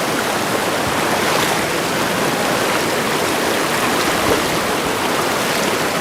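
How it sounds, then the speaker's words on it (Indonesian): A river stream flowing hard, a loud, dense, continuous rush of water that stays steady throughout, close by and with no voices over it. "Harus melewati aliran sungai seperti ini."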